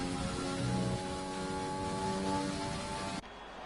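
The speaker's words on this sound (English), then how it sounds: "It was dry and then the rain came and quickly just ruined the conditions on the track." Rain falling on a race track at the Russia circuit in a sim racing game: dense, even hiss with droning engine tones underneath, cutting off abruptly near the end.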